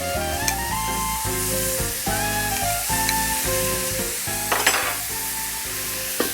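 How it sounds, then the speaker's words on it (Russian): Meat sizzles loudly and continuously in a hot pan, a steady crackling hiss with occasional sharper pops and stirring clatter. "Я возвращаю мясо на сковородку. Оно моментально зашипело."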